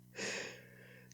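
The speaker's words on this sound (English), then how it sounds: "Just a big yawn?" A big human yawn, one breathy drawn-out exhale that swells and then fades over about a second, close by, with no speech.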